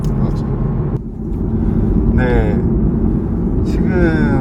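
A BMW Z4 roadster is driven with its top open, its engine a steady low rumble under wind and road noise. People talk over it at moderate volume throughout.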